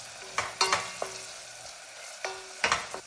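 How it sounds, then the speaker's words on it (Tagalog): Onion frying in olive oil in a pot as a spoon stirs it, with a soft steady sizzle and several sharp scraping, clinking strokes in two short clusters. "nilagay ko siya ng konting olive oil at nilagay ko na yung onion at halo-haluin ko lang siya"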